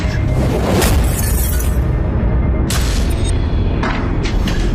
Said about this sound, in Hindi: और ऐसे टूट गई मस्जिद।